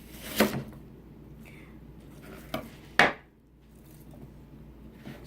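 A knife cuts tomatoes into wedges on a cutting board, giving a few sharp, separated chopping knocks with quiet pauses between them.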